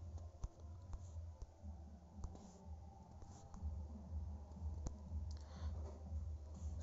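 Rapid clicking of keys on a computer keyboard, a steady quiet patter of typing running throughout with no voice.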